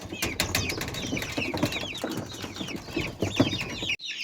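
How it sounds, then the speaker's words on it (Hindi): Many chicks cheeping in a village coop in Uttarakhand, a dense chorus of high chirps close by, mixed with a hen's low clucks and some rustling scuffles. "यहाँ पर है काफ़ी ज़्यादा मुर्गियों के बच्चे, ये देखो इतने सारे मुर्गियों के बच्चे भाई"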